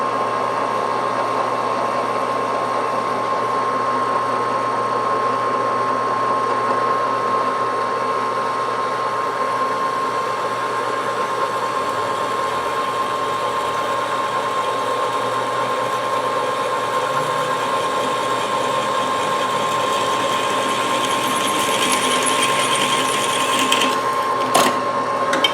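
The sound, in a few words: reaming a hole with a 1/4 inch reamer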